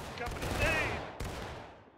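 A company volley of muskets in a War of Rights Antietam reenactment battle cracks out in ragged, overlapping shots, followed by a second report, with shouted voices among the gunfire.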